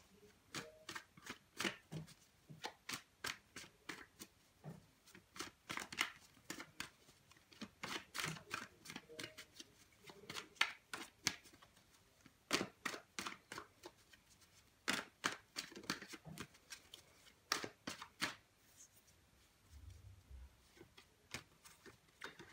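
Tarot cards are shuffled and drawn in a quiet room: faint, crisp riffles and sharp clicking flicks come in quick clusters with short pauses between them.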